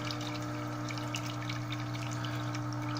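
Water runs in a steady stream out of a hydroponic water chiller pump, a continuous rushing flow over a low mechanical hum, with no pauses.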